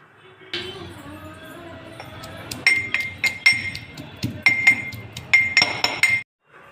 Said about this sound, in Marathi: त्यामुळे आपण हे खलबत्त्यात कुटून घेणार आहोत